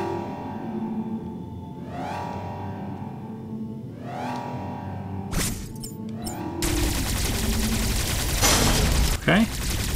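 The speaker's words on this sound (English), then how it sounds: "The energy from the central unit transformed the arm cannon into the Omega cannon." Metroid Dread Omega cannon weapon effects: rising charge sweeps, then sharp blasts and a heavy crackling energy stream that carries on loudly to the end, with game speech in the background.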